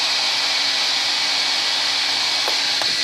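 A blow dryer blasts a steady, loud rush of air throughout, broadband and unbroken, with a couple of faint clicks near the end.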